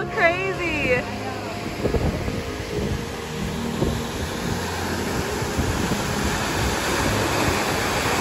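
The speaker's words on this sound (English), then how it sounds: "We then hiked down to get a closer view of the waterfall." Waterfall in Costa Rica roaring as a steady, dense broadband rush close by, with wind buffeting the microphone and a voice speaking briefly at the start.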